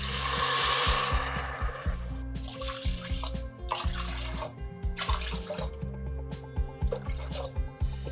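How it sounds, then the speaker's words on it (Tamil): Water poured into roasting little millet and moong dal for pongal makes a steady splashing pour that dies down, followed by scattered drips and light clinks under faint tonal background music. "இப்போ இதில் நம்ம தண்ணி சேர்க்கலாம்."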